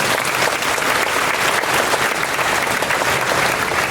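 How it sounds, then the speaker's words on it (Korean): Audience at a Korean Presbyterian Day ceremony held in a church clapping together, a thick continuous round of applause at moderate loudness lasting the full few seconds, with no speech. "수고하신 분들에게 박수를 한번 부탁드리겠습니다."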